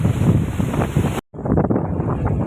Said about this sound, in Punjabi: ਜ਼ਿਆਦਾ ਤੇਜ਼ ਹਨੇਰੀ ਆ ਯਾਰ ਬਹੁਤ ਹੀ ਅਸੰਭਵ